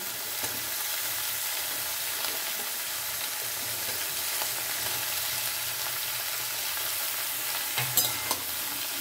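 Mixed vegetables with green chillies, broccoli among them, stirred and pressed down in a hot frying pan, with a steady sizzle and repeated scraping stirs throughout and a couple of sharper knocks near the end.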